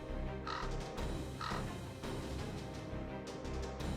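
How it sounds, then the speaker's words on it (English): Crows caw loudly overhead in a battle scene from Fate/Grand Order, their harsh calls repeating in bursts over a steady rushing backdrop, with no talk. "Can you hear the cries of those birds flapping their wings overhead?"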